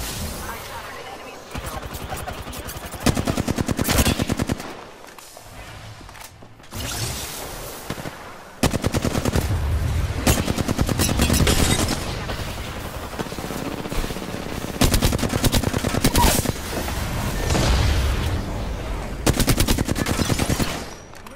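Rapid automatic gunfire and bursts of shots in the Apex Legends battle royale game, loud and dense across the whole stretch with short lulls, while players talk excitedly over the fighting.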